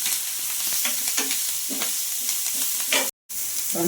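Vegetables fry in a pan for bun dosa batter and are stirred with a rhythmic series of scraping strokes over a constant close sizzle, broken by a short silent gap near the end.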